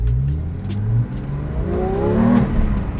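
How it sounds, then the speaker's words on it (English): Manual Porsche 911 GT3 flat-six engine revving from inside the car, a rising mechanical howl climbing in pitch through the rev range with a brief dip midway, loud and close with no talking. "flat 6 sing in all of its extreme and sheer glory"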